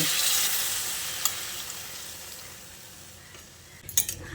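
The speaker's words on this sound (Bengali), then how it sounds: "এবার আমি এর মধ্যে পরিমাণ মতো জল দিয়ে দিচ্ছি" Water goes into a pan of fried potatoes and pointed gourd. A loud hiss gradually fades to a softer simmering sizzle, and a few utensil clinks come near the end.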